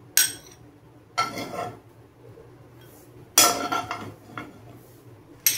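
Rajasthani dal baati being dipped in hot ghee in a bowl, with a few distinct clinks and clatters of utensils against dishes in short bursts separated by quiet gaps.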